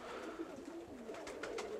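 Racing pigeons coo faintly in a loft, soft low murmuring calls running through the short stretch with a couple of slightly clearer coos toward the end.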